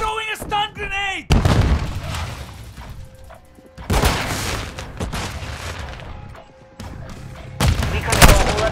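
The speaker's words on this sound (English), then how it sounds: "Throwing a stun grenade!" A stun grenade goes off in Call of Duty amid heavy battle noise: loud booming blasts and gunfire crackle in repeated surges, with a voice calling out at the start.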